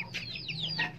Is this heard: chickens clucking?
yes